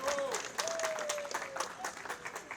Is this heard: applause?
yes